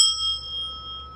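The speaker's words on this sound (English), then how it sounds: "These are lovely cast bells that come from Switzerland, actually." A large cast bell from Switzerland rung outdoors, a single bright metallic strike with a clear sustained ringing tone fading slowly over about a second.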